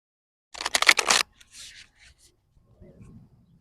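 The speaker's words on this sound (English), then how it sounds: "I'm going to go ahead and shuffle here." A short, brisk riffle of oracle cards being shuffled, followed by softer scattered shuffling and light handling noises in a quiet room.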